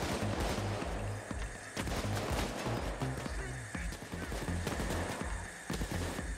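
Rapid automatic UAR rifle fire in the video game Payday 2 rattles in repeated bursts, with players talking over the shooting throughout.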